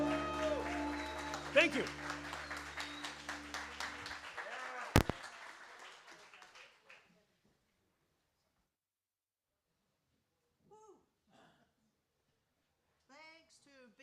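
Audience applause for a speaker at a No to NATO peace event, a dense clapping wash over the first few seconds that fades out, followed by silence and a couple of brief spoken words.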